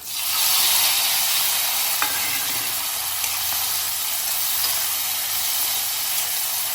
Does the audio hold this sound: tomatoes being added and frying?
yes